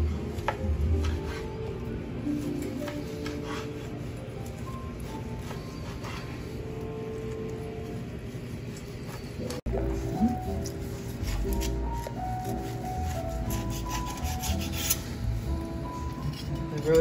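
A knife works through a freshly cooked tri-tip roast with a crispy outside on a cutting board, making repeated rubbing and scraping strokes. There is a sharp clack partway through.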